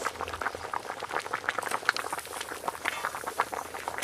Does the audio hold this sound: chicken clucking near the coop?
no